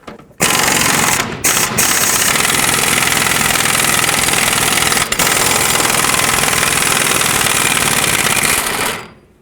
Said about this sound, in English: I'm going to attempt to pull the bolt out from this side with my air gun